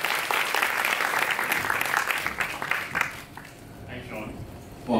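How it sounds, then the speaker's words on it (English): A crowd applauds with steady clapping, fairly loud and continuous, tapering off toward the end. "so please give him a huge round of applause"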